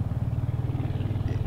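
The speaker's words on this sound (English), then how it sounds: "As you can hear, the Hunter is running nicely, even though it's still pretty tight" A Royal Enfield-style Hunter motorcycle engine, still tight and new, idles and runs steadily with a low rhythmic thumping pulse, close and loud, no talking over it.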